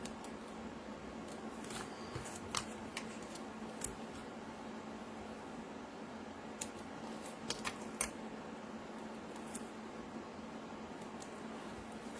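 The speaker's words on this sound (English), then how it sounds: "Non-stick scissors allow me to follow that line." Non-stick scissors cut paper along a line during a papercraft session, giving faint, scattered snips and clicks over a quiet room hum.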